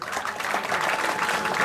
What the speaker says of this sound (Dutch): Mag ik een applaus voor beide dames?